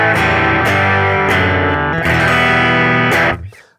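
An electric guitar played through a Line 6 POD Express distortion effect, loud saturated chords struck a few times and sustained, then cut off abruptly.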